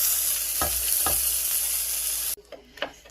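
A Wagyu steak sizzles loudly in a hot pan after being flipped, with a steady frying hiss, a couple of soft utensil knocks, then a sudden cut to quieter sizzling with light clinks.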